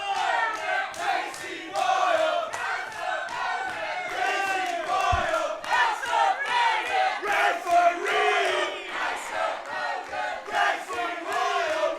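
A large live crowd at the Dolman Theatre roars and cheers continuously, with shouts and whoops rising and falling, loud and close throughout.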